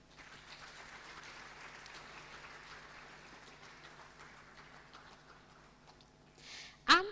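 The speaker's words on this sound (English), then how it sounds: "A round of applause for Sandra Adehene." An audience at an International Women's Day event applauds in a soft, steady patter of clapping that carries on for several seconds before a sharp burst of noise at the end.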